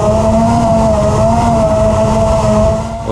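Freestyle drone motors under throttle, a loud continuous close whine with a steady tonal pitch that holds even and eases slightly at the end, no talk.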